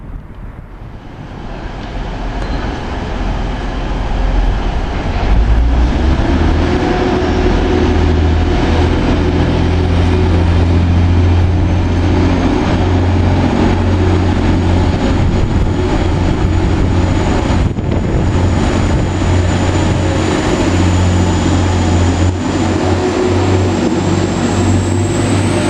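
A Class 185 diesel multiple unit train gives a loud, sustained engine drone that swells over the first few seconds, then holds steady and close with a deep rumble and a high whine running throughout.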